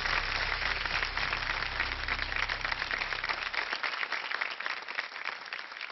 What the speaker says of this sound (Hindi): एक बार जोरदार तालियां फैलें.